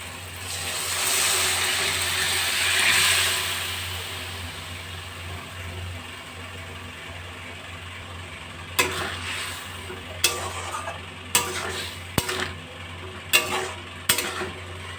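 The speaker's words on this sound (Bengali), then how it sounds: "মশলাটা দিয়ে দিলাম এবার আমি সিদ্ধ করা ডালটা দিয়ে দেবো" Boiled lentils tipped into a pan of ground spices for a vegetable dal and stirred, giving a steady sizzling, scraping hiss that fades, then a few sharp clicks and knocks from the spoon against the pan.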